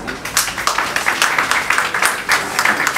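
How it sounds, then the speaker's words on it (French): Audience at a press conference for an artist's album launch clapping in a brisk, continuous burst of applause, fairly close and with no talk over it. "je vous demande d'applaudir pour vous-même déjà"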